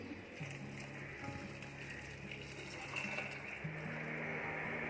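Water poured into a pressure cooker holding soaked urad dal and rajma for dal makhani, a steady faint liquid rush and fill sound running continuously, with a low hum in the background.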